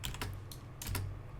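Computer keyboard typing while entering values and commands in Rhino 3D modeling software: several quick, close key presses in two small bursts, fairly clear with no talking.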